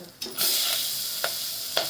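Steady sizzling as vegetables are added to a hot pan, with a few sharp scraping stirs punctuating the continuous crackle.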